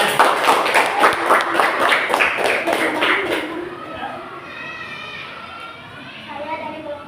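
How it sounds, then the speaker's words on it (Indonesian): Classroom group clapping, a rhythmic run of claps from students for their classmates that fades after a few seconds into chatter and voices. "berikan tepuk tangan sama temannya"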